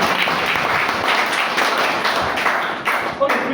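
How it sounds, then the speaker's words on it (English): At a Toastmasters meeting, a small audience claps for an assistant, a brief patter of hands that stays moderately loud and fades near the end. "Please give a round of applause to my assistant."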